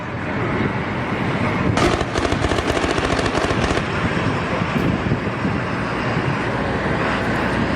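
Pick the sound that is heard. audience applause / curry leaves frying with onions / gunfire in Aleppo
gunfire in Aleppo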